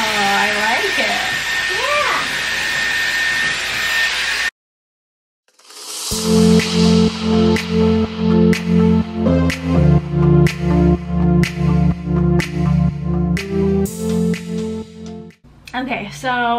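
A Dyson Airwrap hair dryer roars steadily, cuts out briefly, then returns with rhythmic pulsing tones as music plays over it, and a voice speaks briefly near the end.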